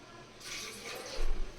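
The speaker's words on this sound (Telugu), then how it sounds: "ఇప్పుడు దీంట్లో 2 గ్లాస్ యాడ్ చేసుకుంటున్నాను వాటర్" Two glasses of water pour in a steady gushing stream into a pot of chana dal, starting after a quiet moment and splashing nearby, with a soft thud near the end.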